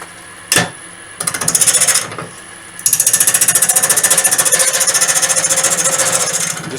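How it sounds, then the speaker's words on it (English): An off-centre goblet spins on a wood lathe while turning tools lying on the lathe bed rattle in a rapid, loud, regular clatter, starting in short bursts and then running continuously. "I had my tools on the lathe bed, so I'll just move them because they're rattling"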